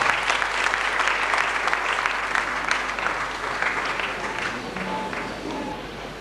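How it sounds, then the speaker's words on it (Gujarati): An audience in a hall at a book release event applauds to welcome a poet to the stage, a loud, steady roar of many hands clapping that eases slightly toward the end. "તાળીઓના ગડગડાટ સાથે કવિ અનિલ જોશી."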